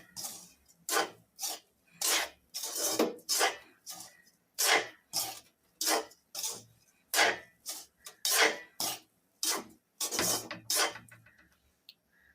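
Semolina and sugar roasting for coconut milk rava kesari are stirred in a pan, making a close, rhythmic run of about twenty brisk scraping strokes with short pauses between them.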